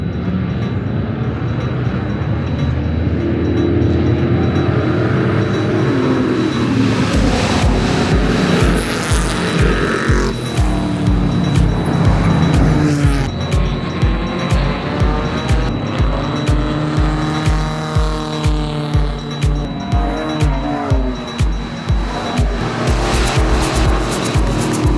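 Race cars from the 24 Hours of Lemons endurance race, cheap $500 cars, roar loudly together, engines swelling and climbing in pitch as the pack moves off from a rolling start, with repeated passing surges.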